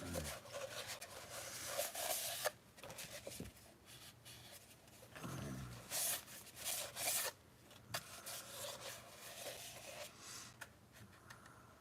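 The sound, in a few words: sanding by hand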